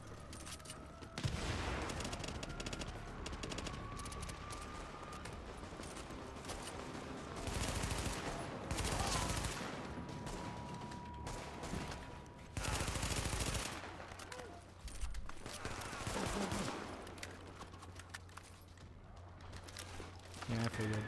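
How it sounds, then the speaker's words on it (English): Rapid automatic gunfire and scattered shots from the video game The Division crackle through a busy mix with game sounds, under frequent talking from a player. "I'm getting shot."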